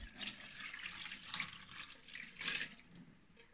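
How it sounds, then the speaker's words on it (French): Melted wax pours from pans into a tub with a continuous, faint liquid splashing and gurgling that swells and eases, heard close with no talk. "je prends des gamelles comme ça, et puis je les verse dans mon bac"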